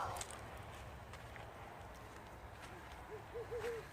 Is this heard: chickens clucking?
no